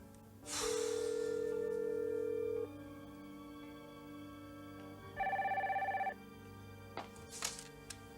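A late-1980s telephone handset ringing on the line after a number is dialed, giving two quiet purring ring tones separated by a pause, faint and close like an earpiece, with a brief rustle at the end.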